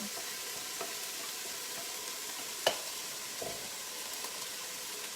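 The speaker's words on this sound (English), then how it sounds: "This is how it should sound. You wanna have your pan preheated to do this. So add in the onions." Chopped onions sizzle steadily in a preheated pan, a continuous close frying hiss with a few faint clicks and one sharp tap from a utensil partway through; no one speaks.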